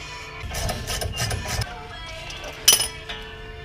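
Metal retaining clip pried off a car's rear brake caliper: a cluster of light metallic clinks and rattles, then one sharp close snap, with faint workshop background around it.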